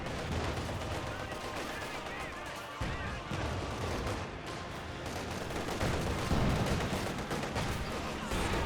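120mm mortar firing in Company of Heroes 2, with booming artillery and gunfire blended into a dense, continuous battle din that stays loud throughout.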